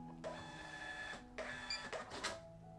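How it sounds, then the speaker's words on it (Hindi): A restaurant POS receipt printer prints a bill in several bursts of mechanical whirring and buzzing, close and clear, with short pauses between passes and no talk. "तो आपका बिल प्रिंट होके आ गया है"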